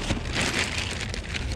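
Rain begins falling outdoors, a steady broadband patter of drops on surfaces, moderately loud and constant throughout, without voices.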